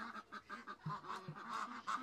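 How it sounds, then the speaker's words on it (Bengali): Bangladeshi ducks on a farm in London keep up a flock's rapid run of nasal quacks and honks, moderately near and fairly quiet, with no speech. "এই যে এগুলো বাংলাদেশি হাঁস"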